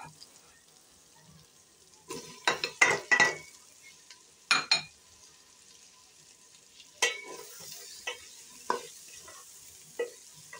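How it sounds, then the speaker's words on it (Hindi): Potatoes fry in a pan for aloo anday ka salan, with a spoon scraping and clattering in short bursts over a soft sizzle, some strokes quick in succession, others spaced apart. "अब हम आलू डालकर भून लेंगे।"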